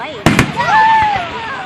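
Outdoor fireworks go off with two sharp pops at close range, followed by a voice speaking as the blasts fade into the background.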